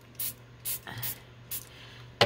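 A spray bottle mists water onto antique linen in several quick, crisp bursts, evenly spaced, with a low background hum and a sharp click at the end.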